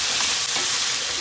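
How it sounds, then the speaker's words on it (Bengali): Fish sautés in a hot pan with a loud, continuous, close-up sizzle and occasional stirring scrapes, and no talk. "মাছ কষিয়ে নিচ্ছি"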